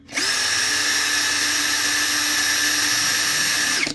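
A Gtools GT34+ cordless impact drill runs steadily at its second speed setting, a high continuous whine up close that starts and stops cleanly with no talk.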